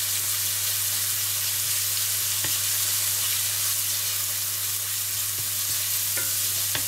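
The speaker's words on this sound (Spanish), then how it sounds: "vamos a sofreír ligeramente el ajo picado durante unos segunditos a una temperatura media alta" Chopped garlic sautés in hot oil over medium-high heat, giving a steady, even sizzle close by with occasional faint clicks of stirring, and no talk.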